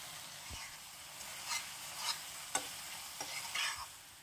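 Coriander leaf pickle with sugar is stirred in a hot pan, giving soft scraping strokes and light sizzling, faint and close, with a few sharper scrapes against the pan.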